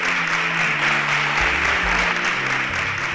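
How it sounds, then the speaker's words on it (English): Audience applause as contestants leave the stage at a televised competition show, a steady, full wash of clapping lasting throughout, with low music or hum underneath. "A round of applause for them as they exit the stage."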